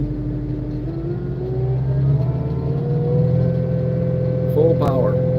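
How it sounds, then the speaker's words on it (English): A Caterpillar 259D3 compact track loader runs its diesel engine and the revs climb steadily, a close, loud, continuous drone rising in pitch, with a person talking faintly over it near the end. "Bring the RPMs right up."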